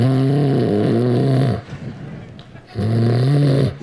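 A voice imitates a father snoring: two long, loud, rattling snores separated by a brief pause.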